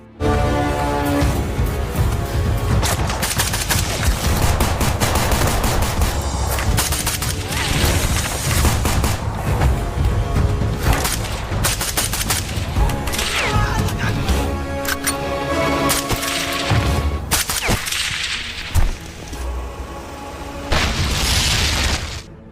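A film gunfight with a sniper, packed with continuous booming gunfire, rapid bursts and loud explosive cracks close up, dense and chaotic throughout with a few brief lulls.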